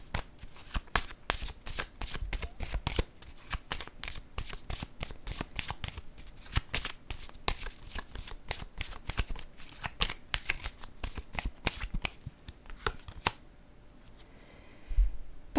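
A deck of tarot-style cards is shuffled again and again, a dense run of crisp riffling flutters close up that breaks off near the end, leaving near silence.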